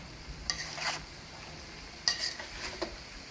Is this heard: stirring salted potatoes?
yes